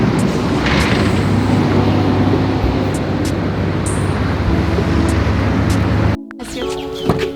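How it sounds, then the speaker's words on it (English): Taxi ride through town traffic in Puerto Escondido, Mexico, a loud steady rumble of engine and road noise heard from inside the car, broken by a short gap near the end before quieter sounds resume. "got into a taxi to go to the downtown area of Puerto Escondido"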